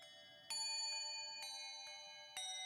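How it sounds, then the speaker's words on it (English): Bright synthesized bell tones ring out in a few struck notes, each one sustained and shimmering, soft and clean with no talking. "just a nice bell type thing"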